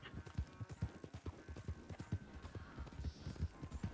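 Rapid rhythmic hoofbeats of a white horse galloping in Red Dead Redemption 2, steady and close, with faint game-like background tones and no talking.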